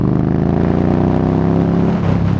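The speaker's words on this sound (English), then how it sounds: "it's a V-twin, as you can hear, and as you'd expect for a cruiser" A 2019 Indian Scout Bobber V-twin cruiser with V Performance exhaust, a loud, close, continuous deep engine rumble with steady pulsing throb, briefly dipping near the end.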